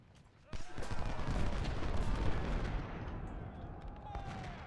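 Musket volleys crackle and boom through a Civil War battle in the strategy game Ultimate General: Civil War, a sharp onset followed by a sustained rolling roar of massed fire that slowly fades.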